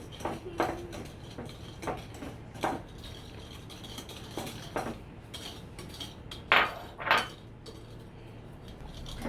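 Butterscotch chip cookie dough is stirred in a bowl with a utensil, giving scattered scrapes and clinks against the bowl, with a louder pair of knocks near the end and no talk.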